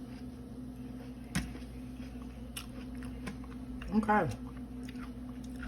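Someone bites into a homemade three-ingredient peanut butter cup and chews, giving a few soft crunches and one louder bite near the end, close up and fairly quiet, with a brief spoken word.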